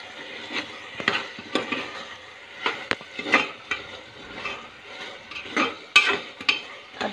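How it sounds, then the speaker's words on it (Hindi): Cluster beans with dry prawns stir-fried over high heat, a steady run of scrapes and metallic clinks from a spatula against the pan, repeated throughout the clip over a soft background of frying. "मैं इसे तेज़ आंच में थोड़ा भून रही हूँ"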